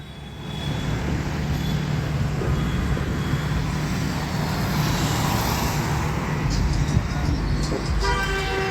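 Heavy road traffic on a congested Indian road gives a steady, loud roar of engines, with a car horn tooting near the end.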